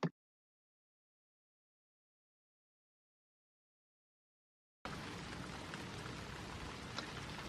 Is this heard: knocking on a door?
no